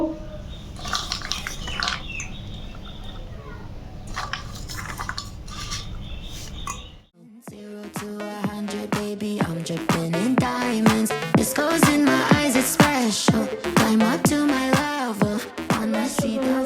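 Ginger and garlic being ground into a paste for a duck curry, with repeated close scraping and clinking strokes for about seven seconds before music takes over.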